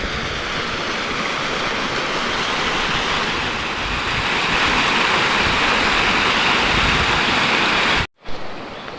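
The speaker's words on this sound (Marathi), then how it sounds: "धबधबा आहे हा छोटासा" Loud, steady roar of rushing water from a small waterfall after heavy rain in Jalgaon farmland, close by and continuous, cutting off abruptly near the end.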